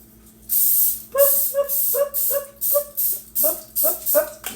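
Repeated short hissing bursts of an aerosol cooking spray onto a waffle maker, about eight quick sprays in a steady rhythm, close and loud.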